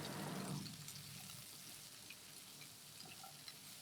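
Chopped bottle gourd with turmeric powder is stirred in a pan for poriyal: a loud sizzle at first that quickly dies down to a soft, steady frying hiss with faint scraping.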